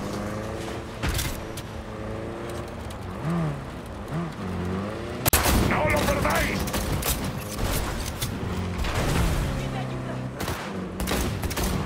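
Bursts of gunfire ring out in the video game Cyberpunk 2077, sharp volleys crackling over mechanical clanks and background game sounds, with one especially loud shot midway and a voice talking along.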